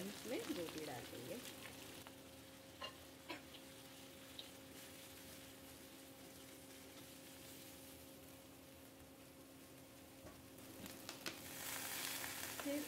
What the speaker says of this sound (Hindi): चलिए सबसे पहले हम इसमें गोभी डाल देंगे।